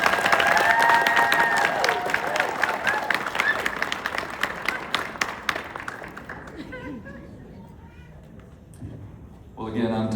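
Audience applause welcoming speakers to the stage at an honoring ceremony, loud sustained clapping from a crowd that gradually thins and fades, with a voice starting at the very end.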